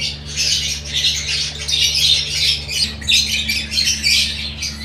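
Pet birds, lovebirds kept for breeding, squawking continuously at close range, a dense overlapping chatter of shrill calls over a low steady hum, with no talking.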